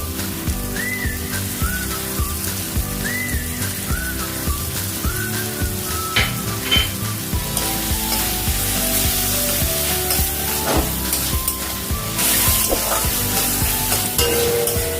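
Water lily stems cooked with mustard paste sizzle and fry in a pan after a little raw mustard oil goes in, a continuous close crackle with stirring scrapes and faint background tones, no voices.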